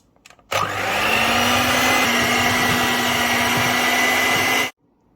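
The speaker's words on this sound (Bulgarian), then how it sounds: "Добавяме 180 грама масло и продължаваме с разбиването." An electric mixer with dough hooks beats 180 grams of butter into egg yolk and powdered sugar for butter cookie dough, running loud and steady for about four seconds before switching off.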